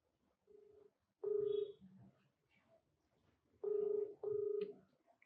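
A telephone call being placed, with short tonal dialing beeps followed by two bursts of ringback tone, moderately loud and alone with no talk.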